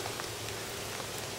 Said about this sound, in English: I'll let the rain land on that for a couple of days